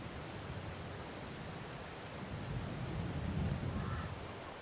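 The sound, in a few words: rain in the video game Farming Simulator 22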